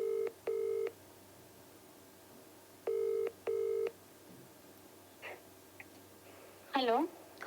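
Telephone keypad tones ring out in four short beeps in two pairs as a call is dialed, followed by faint clicks and a brief voice-like burst on the line.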